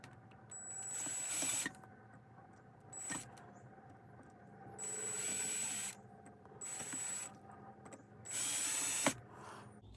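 Bursts of power-tool whirring as broken-off bolts are extracted from a GSXR 600 motorcycle engine case, four separate runs of a few seconds each with quiet pauses between, moderately close.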